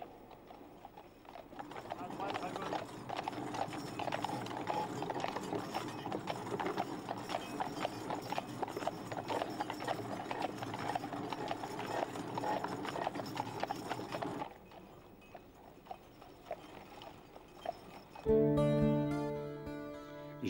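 Heavy draught horses hauling a weighty load on a sled with wooden runners, their hooves clip-clopping steadily and continuously under a narrator's voice, ending with a brief burst of music.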